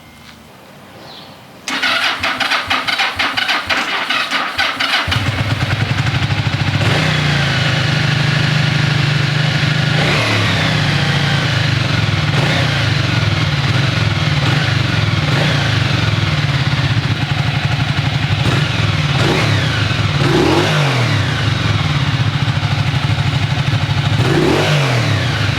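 A Yamaha XZ550 Vision motorcycle engine cranks and catches, then settles into a steady, loud idle with several sharp throttle blips, heard up close with no talk.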